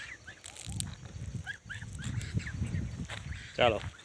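Ducks at a Jain temple in Dhank quacking softly in scattered bursts, close by, with a person talking faintly and a louder honking call near the end.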